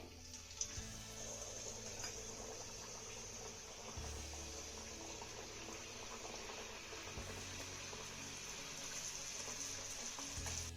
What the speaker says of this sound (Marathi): सुरुवातीला ना एक पुरी मी तुम्हाला तळून दाखवतीये